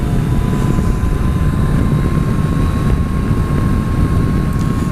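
A Kawasaki Versys 1000 two-cylinder motorcycle engine runs smoothly at a steady drone, heard loud and close with a constant low rumble and faint whine, no talking.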